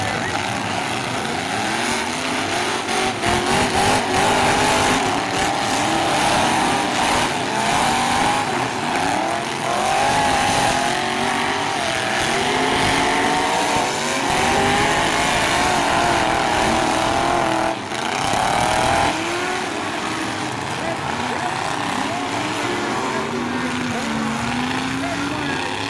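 Full-size 1980s race cars accelerate together after a green flag start at Clearwater, a loud sustained roar of many engines revving and shifting, heard close with an announcer speaking over it.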